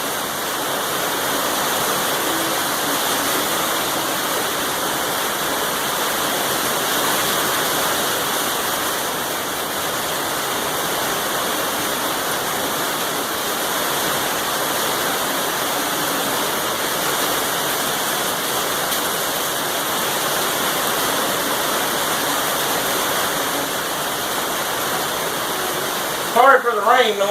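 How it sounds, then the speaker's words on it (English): Rain falls outdoors as a steady, dense hiss that stays loud and even throughout, with a few brief knocks right at the end. "Sorry for the rain noise."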